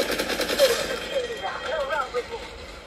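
Faint bursts of gunfire from the mobile video game Apex Legends Mobile crackle in quick rapid sequences, low in level.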